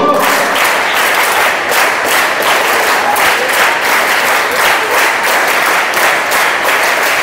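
Dense, rhythmic group clapping from a room full of schoolchildren at a school first aid awareness event, with sharp, evenly spaced hand strikes that fill the space for several seconds and only faint voices beneath.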